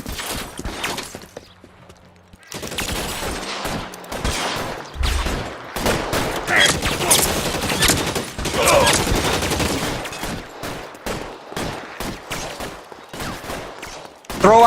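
Gunfire erupts in a video game shootout: dense, loud bursts of rapid shots crackle almost continuously for over ten seconds after a short quieter lead-in.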